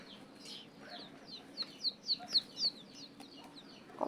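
White chicks of the golden chicken breed peep in a quick run of five or six high, clear chirps near the middle, over a faint quiet background.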